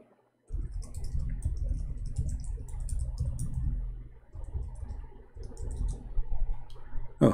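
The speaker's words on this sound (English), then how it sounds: "I'm typing in English, but turned to be in Arabic." Computer keyboard typing comes in quick, irregular bursts of close clicks after a moment of silence, with short pauses between runs of keystrokes.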